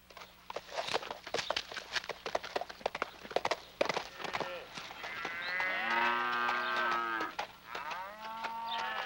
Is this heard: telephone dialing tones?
no